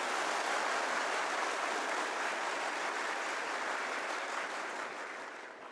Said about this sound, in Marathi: पोरो आपल्या टाळ्या दाखवा एकदा